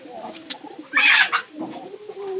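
Pigeons in a loft coo softly and repeatedly close by, with a sharper flutter or burst of scuffling in the middle and low rolling coos continuing after.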